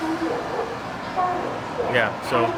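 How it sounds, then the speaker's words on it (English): A train rumbles into a station in Kaohsiung, Taiwan, with a short horn toot and squealing brakes near the end, while people talk nearby. "train's here."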